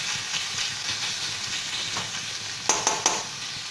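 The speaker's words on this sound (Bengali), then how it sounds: "পেঁয়াজটা একদম ডিপ ফ্রাই হবে না, জাস্ট পেঁয়াজের কালারটা একটু চেঞ্জ হবে, ততক্ষণ অবধি এটাকে ভাজবো।" Chopped onions sizzling gently in a pan for masoor dal tarka, a low, even frying hiss with three sharp clinks near the end, no talking.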